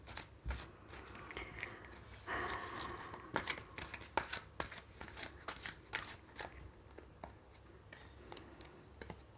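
Tarot cards shuffled by hand in a quiet room, a run of quick, crisp riffling and sliding bursts at close range with no talk.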